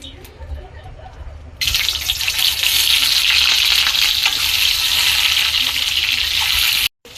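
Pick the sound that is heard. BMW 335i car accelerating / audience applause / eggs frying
eggs frying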